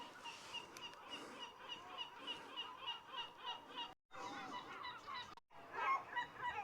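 Gulls calling on the Rock of Calpe along the Spanish coast, a busy run of repeated harsh squawks and honking cries, some fairly close and others further off, quiet overall and with no voices.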